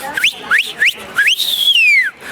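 A person whistles in imitation of a cinema crowd cheering at a film, a string of short rising whistles followed by one long, loud sustained whistle that slowly falls, close and alone.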